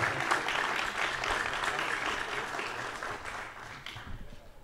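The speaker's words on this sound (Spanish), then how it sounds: "que se siente el aplauso para el coordinador de red social, Juan Carlos Pinay." Audience applause at a political party gathering, a sustained crowd of clapping hands that holds steady and then gradually thins toward the end.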